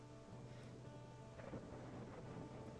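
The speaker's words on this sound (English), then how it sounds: "now there's a thunderstorm and it's raining" Thunder rumbles low and distant in a WolfQuest thunderstorm, under steady rain hiss and a faint wind, all heard quietly and without speech.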